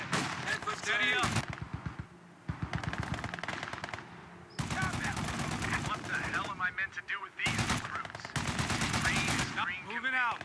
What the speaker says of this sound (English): Fighting position machine gun is in place.